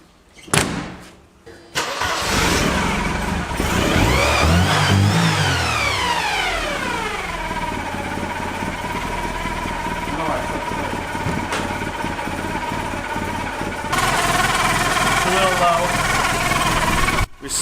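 A car cranks and catches after the battery is hooked up, whining up to a loud rev and then settling into a steady, close idle with a second rise near the end, and voices come through now and then.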